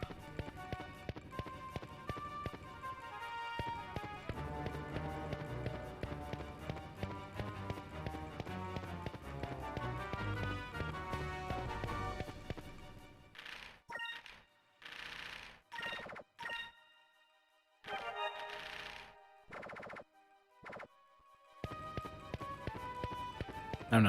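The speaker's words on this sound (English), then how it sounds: "His footsteps are so loud." A character's loud footsteps tap in a fast, regular rhythm in the video game Skies of Arcadia Legends, running over background music, pausing through quieter stretches, then resuming.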